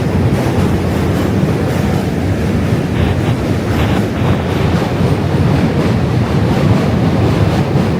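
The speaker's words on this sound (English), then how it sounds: "And trains coming." A train approaches on a frigid winter morning in New York City: a loud, steady rumble and roar of rail cars mixed with strong wind buffeting the microphone, continuous for the whole stretch with no talking.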